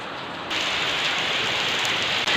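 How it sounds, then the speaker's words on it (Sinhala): Steady rain pours down, starting suddenly and then holding as a dense, even hiss of drops striking surfaces, loud and close with no voices. "ඉතින් තාම වහිනවනේ"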